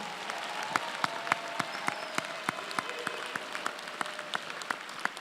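An honors convocation audience applauds its student scholars with steady, sharp clapping from many hands, moderately loud and lasting several seconds.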